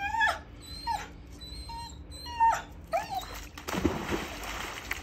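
A dog at a poolside chasing a stick, with several short whines and whimpers near the start, then a burst of water splashing and movement toward the end.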